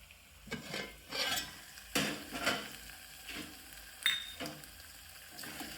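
Chana dal sabji roasts in a pan on low heat, cooked village-style. A spoon scrapes and stirs in several separate strokes over a faint, soft sizzle, with occasional light metallic clinks.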